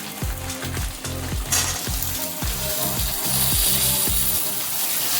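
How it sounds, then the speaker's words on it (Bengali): Taro and potatoes tipped into a pan of fried onions for a Bengali pui shak curry with hilsa head, bursting into a loud, steady sizzle with a few knocks and stirring scrapes, close up and without talk. "আমার পেঁয়াজ ভাজা ভাজা হয়ে গেছে। এবারে দেবো মুখি কচু আর আলু"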